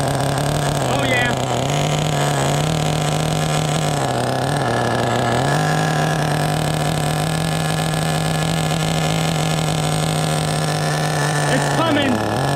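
A used CEN nitro RC car with an OS 18 CV engine runs loudly and steadily close up, its high buzzing note rising and dipping in short revs before settling into a sustained whine, while people talk over it.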